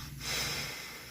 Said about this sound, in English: So sir, can you please blow or sniff also?